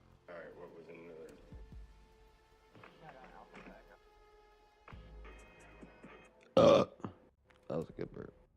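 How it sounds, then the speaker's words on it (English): A person lets out a loud, abrupt burp between stretches of quieter, intermittent sound and talk, with a few more voiced bursts following just after. "That was a good burp."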